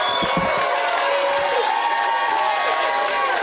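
Crowd at a live fight event cheering and clapping after the bout, a steady dense roar of voices and scattered applause filling the whole stretch at close range.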